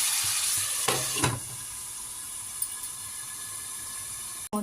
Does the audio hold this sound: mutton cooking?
yes